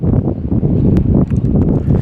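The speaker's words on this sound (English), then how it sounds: "It's so damn windy out here" Steady wind buffets the microphone with low rumbling gusts, a continuous rough roar outdoors with faint rustling and a few brief clicks.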